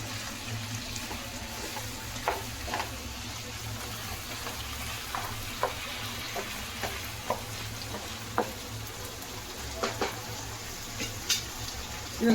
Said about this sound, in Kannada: ಇವಾಗ ಬೇಯಿಸಿದ ಮಟನ್ನು ಅದನ್ನು ಸ್ವಲ್ಪ ನೀರಿದ್ಮೇಲೆ ಹಾಕ್ಬಿಡೋಣ. ಇವಾಗ ಇದೆಲ್ಲ ಸ್ವಲ್ಪ ಚೆನ್ನಾಗಿ ಫ್ರೈ ಆಗಿ